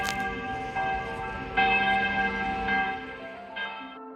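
Church bells ringing in Croatia, several bells struck one after another with long ringing tones that overlap and fade, heard fairly clearly in open air with no talking.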